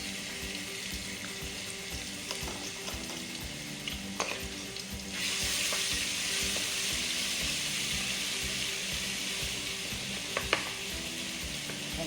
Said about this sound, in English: Let me cook my garlic.